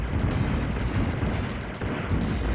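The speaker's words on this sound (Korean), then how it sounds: "폭탄 쏨과 동시에 저 보스가 저렇게 터지면 화나는 게 콤보로 오죠" Boss explosion from the Strikers 1945 arcade shoot-'em-up: a dense, continuous rumble of booming blasts with crashing bursts layered on top, steady and loud for the whole stretch.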